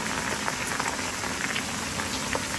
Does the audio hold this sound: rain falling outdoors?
yes